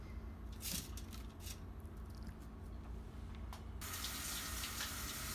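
Tap water pours steadily into a kitchen sink as carrots are washed, a close, continuous splashing that grows to a fuller gush near the end.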